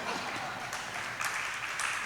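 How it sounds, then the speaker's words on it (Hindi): A seated audience at a Jain religious discourse breaks into steady applause, many hands clapping at once in a brief, moderately loud wash that stays even throughout. "आपकी तालियों ने बता दिया"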